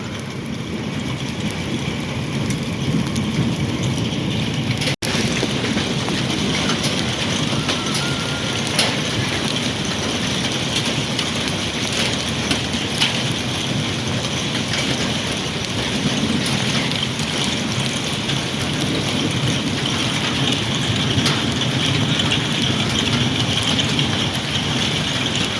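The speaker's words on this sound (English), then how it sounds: "Why are y'all standing in the hail?" Hail falling outdoors, a dense steady roar of pellets striking surfaces that holds for the whole span without break, loud and close, with no voices.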